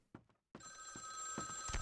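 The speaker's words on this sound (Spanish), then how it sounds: "No quiero coger el teléfono, gracias." A telephone rings in Vampire the Masquerade Bloodlines, a bright sustained bell tone that starts after a few quiet taps and continues steadily, at moderate volume.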